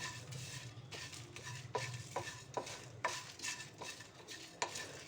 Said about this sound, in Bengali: কালো জিরে, তো আবার আমি এইগুলোকে একসঙ্গে ভালো করে ভেজে নেব।